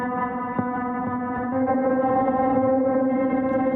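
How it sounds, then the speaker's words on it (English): A sustained synthesizer drone run through the K-Devices Magma distortion effect on iOS rings with a gritty, distorted buzz and rich harmonics, swelling slightly louder partway through, with no voices. "And let's add some distortion."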